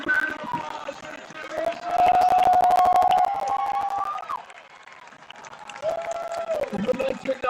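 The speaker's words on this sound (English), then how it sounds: "another big round of applause for" A crowd claps and cheers at a high school sports game between Titusville and Astronaut, with a burst of dense clapping in the middle while an announcer's amplified voice carries over it.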